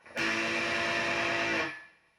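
A single crunchy, distorted electric guitar chord rings out loud and saturated for over a second, then cuts off and fades.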